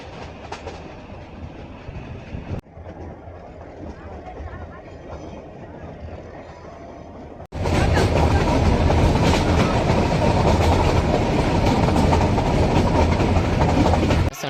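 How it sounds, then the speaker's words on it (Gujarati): A YDM-4 meter gauge diesel locomotive train rumbles along with a steady roar, quieter at first, then abruptly much louder and fuller, continuing without a break until it ends. "આ ટ્રેનનું લોકોમોટિવ વાયડી એમ four metre ગેજનું locomotive diesel engine"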